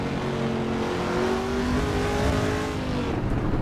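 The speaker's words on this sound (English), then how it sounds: "It sounds like American muscle." Race car engine in the racing game Assetto Corsa Evo, with a throaty muscle-car character, revving hard and steady throughout with rising harmonic sweeps as it climbs through gears, loud and close.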